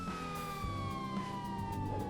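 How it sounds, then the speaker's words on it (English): A police car in GTA 5 accelerates hard with its siren wailing in a long, steady descending tone over a rising engine roar, sustained and loud throughout. "The police car is accelerating to the max."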